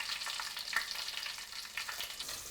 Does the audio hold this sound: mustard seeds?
yes